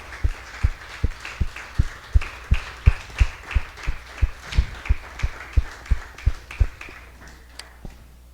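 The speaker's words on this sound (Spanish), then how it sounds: "¿Cuántos pueden darle un fuerte aplauso al Señor Jesús?" A church congregation claps in steady unison, about three sharp claps per second, close and even for roughly seven seconds before the rhythm slows and fades.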